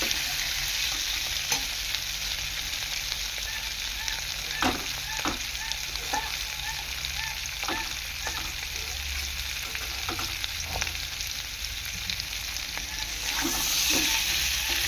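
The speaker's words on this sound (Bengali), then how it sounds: "একটু ভালো করে আলুটা ভেজে নিয়ে মশলা দিয়ে দেবো।" Potatoes fry in hot oil in a pan with a constant close sizzle, broken up by the scrape and tap of a spatula stirring at irregular intervals, and no talking.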